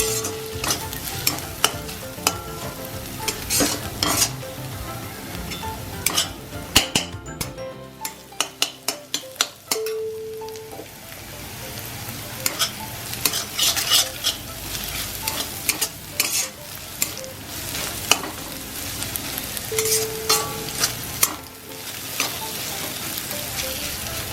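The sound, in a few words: stirring and frying ginger and garlic in a pan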